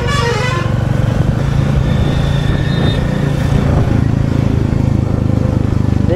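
Royal Enfield Classic 350 BS7 E20 motorcycle on a long road ride at speed, a steady loud engine drone with wind noise throughout, with horn toots from passing traffic mixed in.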